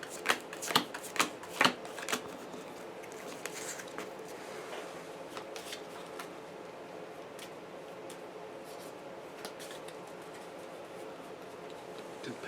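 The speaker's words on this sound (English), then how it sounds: "So let me shuffle this." Pathfinder Adventure card game cards being shuffled by hand, a few sharp riffling bursts at the start followed by quieter, scattered card shuffling and handling sounds, close and soft, with some faint talk.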